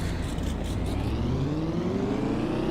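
A truck engine in Farming Simulator 25 revs and climbs steadily in pitch, a continuous motor drone rising over a few seconds, fairly close, with engine pinging and no talking.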